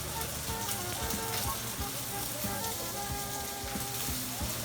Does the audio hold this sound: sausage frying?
yes